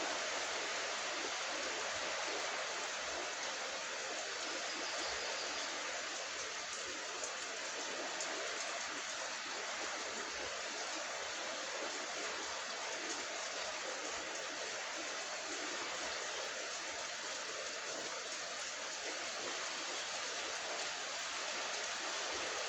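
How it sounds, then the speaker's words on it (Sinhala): Heavy rain falls outdoors in a constant, even hiss, moderately loud and unbroken, with no talking heard. "හොඳටම වහිනවා."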